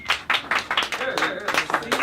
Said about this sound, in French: Une bonne main d'applaudissement, Monique.